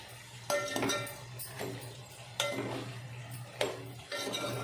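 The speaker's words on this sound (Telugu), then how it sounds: "టమాటాలు పచ్చిమిరపకాయలు ఇవన్నీ వెళ్దాం వేసి ఒకసారి కలుపుకోవాలి" A spoon stirs and scrapes tomatoes and green chilies into gongura chicken in a metal pan, giving repeated clinking strokes about every two seconds over a low steady hum.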